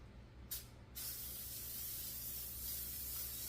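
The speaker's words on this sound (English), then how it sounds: "Let me get my cooking spray, because we do want to spray the pan." Cooking spray hisses from a can onto a glass baking pan in a kitchen: a short burst followed by a longer, steady spray, close and alone.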